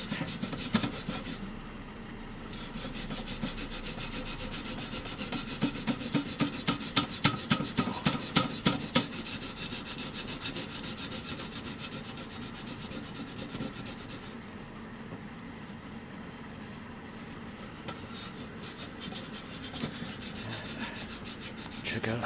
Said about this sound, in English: Start scrubbing away at this thing.